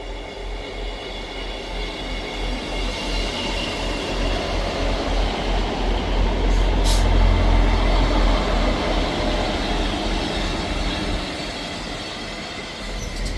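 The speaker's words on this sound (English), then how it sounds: "arriving in at the same time is the delayed 1414 Scotrail service from Glasgow Queen Street to Aberdeen" Delayed Scotrail passenger service from Glasgow Queen Street to Aberdeen arriving at Monifieth station, a steady loud rumble of wheels and engine building to a peak midway, then easing, with faint wheel squeal.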